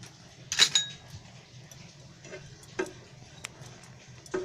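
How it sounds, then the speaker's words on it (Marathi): Grated coconut being dry-roasted without oil in a pan on a gas stove: sparse, close metallic clicks and clinks of a utensil against the pan, with quiet scraping in between. "तर त्याच्यामध्ये खोबरं टाकते आणि चांगलं भाजून घेते"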